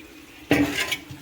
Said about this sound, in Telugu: చింతపులుసు నేనైతే పోసేసుకోవాలి